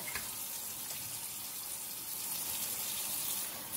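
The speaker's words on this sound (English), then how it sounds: "So I'm going to turn the water on, and I'm just going to start rinsing them one by one" A kitchen tap gushes steadily into a sink as chitterlings are rinsed one by one, a loud, continuous close water rush with no speech.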